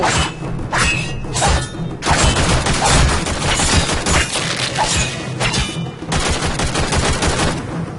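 Dense gunfire from the video game Warframe: rapid bursts and volleys of shots with heavy thuds, loud and continuous, with brief gaps between strings.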